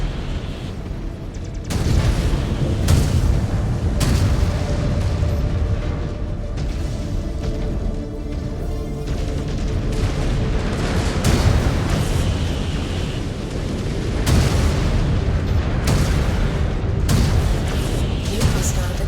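A mech blowing up in the video game MechWarrior 5: Clans, with sustained loud rumbling explosions and thudding weapon impacts recurring through a long battle, and radio voices speaking over the din.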